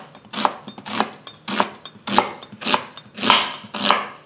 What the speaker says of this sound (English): we're gonna get started with one onion that I'm just gonna slice up